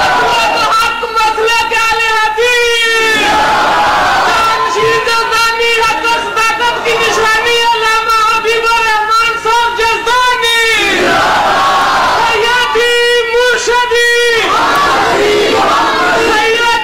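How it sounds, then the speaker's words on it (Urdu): A large crowd at a religious gathering chants slogans in loud, rhythmic unison, with one group answering another in repeated call-and-response bursts, the voices roaring and echoing continuously throughout. "اندر والیاں دا باہر والیاں دا آپس میں مقابلہ، کیڑا نعرے بہتے ماردا، کیڑا سبحان اللہ آندا"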